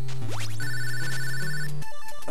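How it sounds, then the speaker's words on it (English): A chiptune phone-like ringing jingle from the NES game Goonies 2 plays loud and close, bright electronic tones stepping through a short bleeping pattern with a bass line beneath before cutting off. "I thought that was a phone ringing for a second."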